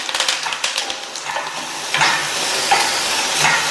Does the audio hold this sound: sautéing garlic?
yes